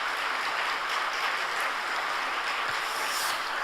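Dense, steady applause from a congregation at a church's 25th anniversary worship service, a sustained broadband wash that holds at an even level for the whole stretch with no voices over it.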